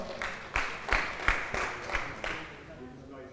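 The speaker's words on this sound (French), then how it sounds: "On l'applaudit." A small audience claps in a few loose, evenly spaced bursts during a medical lecture on ankle instability, fading out after a few seconds.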